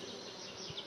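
Honeybees hum inside an open beehive during an inspection, a faint, steady buzz heard close up for a brief moment.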